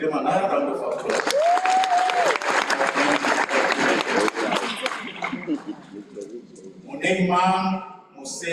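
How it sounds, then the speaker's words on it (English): A crowd applauds graduates at a STADIO Waterfall spring graduation ceremony. The clapping is continuous and fairly loud under a speaking voice, then thins out before more talk follows. "You can give them another round of applause."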